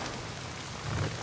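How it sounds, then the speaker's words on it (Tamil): Rain falls steadily in the zombie survival game Days Gone, a soft continuous patter across the whole stretch that swells slightly near the end, with no voices. "இது மழை வேற பெய்யுது."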